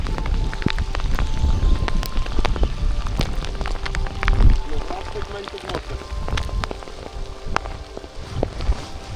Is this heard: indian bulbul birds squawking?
no